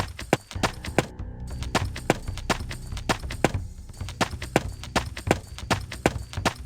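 Horse hooves clip-clopping in a Lionel Trains video game, a brisk, regular series of sharp, close hoof knocks at a trotting pace, with no speech over them.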